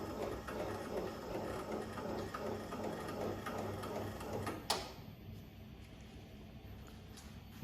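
A Barudan embroidery machine with an S head runs steadily with a fast mechanical chatter and ticking, then a sharp click near the end as the motion quiets to a faint hum.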